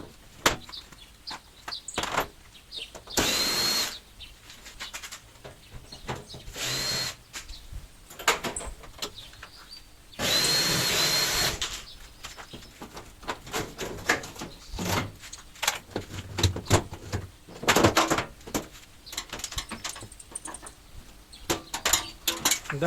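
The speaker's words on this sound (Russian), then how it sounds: "Дальше снимаем саму дверку и переднюю панель." Removing the door and front panel of a washing machine during disassembly, with scattered metallic clanks, scrapes and knocks, bursts of rattling and a few thuds in a quiet room.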